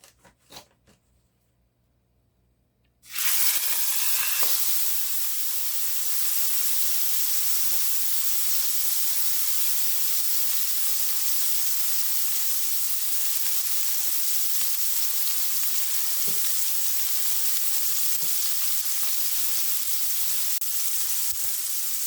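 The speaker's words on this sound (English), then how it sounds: "I'm going to put my steak in and I'm going to sear it for 4 minutes on one side for it to get some crust." A T-bone steak hits a very hot pan after a near-silent moment, erupting into a loud, sustained sizzle that continues evenly with small crackles throughout.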